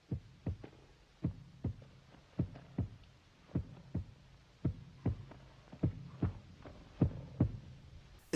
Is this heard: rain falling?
no